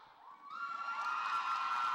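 Crowd at a home cheerleading competition cheering and whooping, rising from a thinner burst into a loud sustained roar of many voices, with high shrieks that sound like children.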